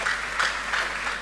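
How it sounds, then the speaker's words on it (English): Audience applause at a university congregation ceremony, a steady dense clapping that swells in a few waves throughout, with no speech over it. "I think that we must applaud them for the initiative."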